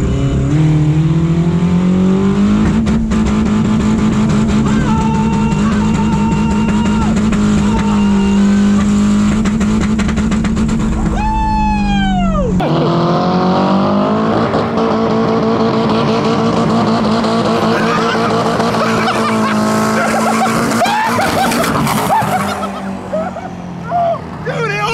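A nitrous-fed Toyota Supra with a 1,000-shot of nitrous drag racing, its engine roaring loud and close with a rising harmonic whine, a sharp gear change and revving climb midway, over a broad, sustained roar.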